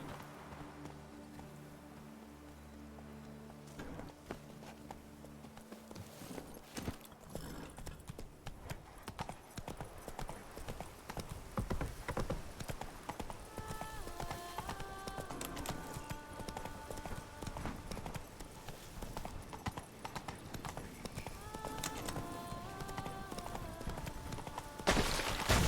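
Horse hooves galloping in The Witcher 3 video game, a steady, continuous clip-clop rhythm running throughout over a dense bed of game music and ambience, with no talk.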